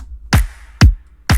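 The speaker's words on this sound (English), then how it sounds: "It's just basically a stripped down version of the drum loop that sounds like this" A stripped-down pop drum loop programmed in FL Studio plays three evenly spaced punchy hits, each a deep kick layered with a bright snap, loud and dry with silence between.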